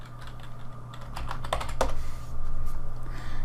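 Close, clear keystrokes on a computer keyboard while entering values in Blender, a quick uneven patter of taps with a few sharper presses, and no voice over it.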